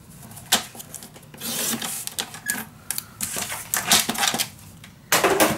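Paper being cut to two-inch strips for a mini album, with sharp slicing swishes and clacks of a cutting tool, bursts of rustling and a final longer cut, close up.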